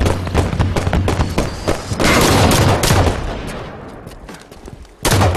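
Rapid gunfire and sharp repeated shots during a raid on Sedra Cave Outpost, with dense overlapping bursts close by, a brief lull near the end, then another loud volley.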